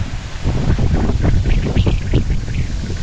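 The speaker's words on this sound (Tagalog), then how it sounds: "Lakas ng hangin." Strong wind buffets the microphone atop Sky Plaza in Natividad, Pangasinan, in a continuous low roar with gusty surges, loud and close, with no one speaking.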